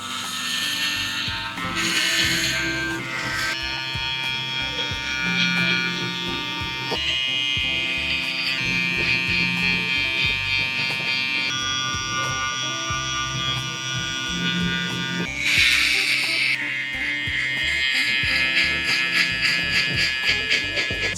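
An electric shaver buzzes continuously at close range while cutting hair during a fade haircut, a steady droning hum with shifting pitch and small fluctuations as it moves over the head, lasting throughout.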